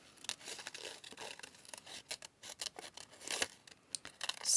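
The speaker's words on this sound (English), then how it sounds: "I'm going to fussy cut this out" Scissors snip paper ephemera by hand in a quiet room, a close series of short, irregular crisp cuts and light paper rustles, some quick bursts and brief pauses between them.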